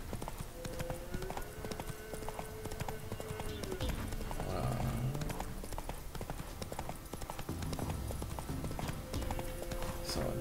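Horse hoofbeats clip-clop in a steady galloping rhythm while riding in The Witcher 3, continuous and close throughout, with a faint snort or neigh and game ambience underneath.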